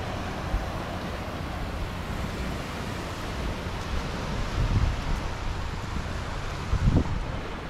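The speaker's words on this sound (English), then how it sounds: "A bit windy." Steady wind buffets the microphone in a continuous broadband roar, with a couple of louder low gusts near the end.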